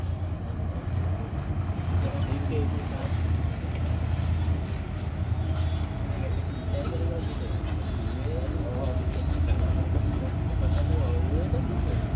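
A heavily loaded stone truck, the Arjuna Ireng, labors uphill with a continuous deep engine drone and rumble, steady and fairly close throughout.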